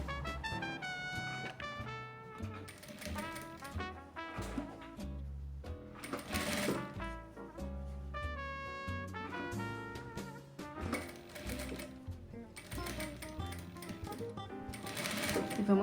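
A sewing machine stitches bias binding onto fabric in a run of steady mechanical whirring, partly buried under prominent background music with some talk.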